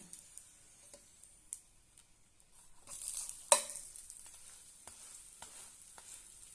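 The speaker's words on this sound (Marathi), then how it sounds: "आणि मस्तपैकी आपले आता खरपूस असे पोळे भाजून घेऊया मस्त असे आपले दोन्ही बाजूने" Leftover chapati pieces fry quietly in a pan, a faint soft sizzle with light scraping taps and one sharper clatter as the pieces are flipped to the other side, close up with no talking.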